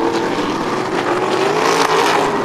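Stock cars race on an oval track at a grand opening event, engines roaring steadily and close with rising pitch as they accelerate together in a continuous, loud drone.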